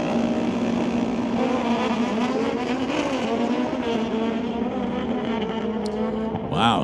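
Suzuki and Kawasaki drag racing motorcycles make a run down the strip at an NHRA Summit ET Series race. A sustained, loud, high-revving engine drone with a wavering pitch continues throughout, with a brief sharp noise at the end.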